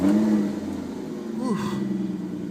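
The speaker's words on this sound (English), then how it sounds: "Beautiful startup. 12 cylinders, babe." A 2005 Aston Martin DB9 Volante V12 cranks and fires up close, a steady low engine rumble settling into idle with a brief rise in revs partway through.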